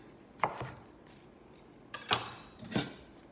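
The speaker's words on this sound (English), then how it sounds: "So I'm just gonna chop off the root end here." A kitchen knife chops through the root end of a leek on a cutting board, giving three sharp, close thunks spaced apart with quiet in between.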